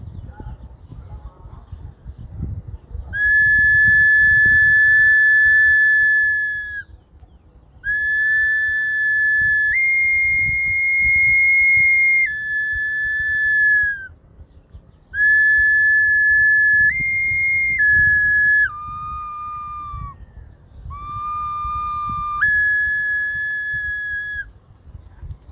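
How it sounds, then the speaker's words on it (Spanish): A small zoomorphic clay whistle from an archaeological site is blown in a series of clear, sustained piping notes, several long tones stepping between a few pitches, each separated by short breaths, loud and close. "la muestra de un silbatito"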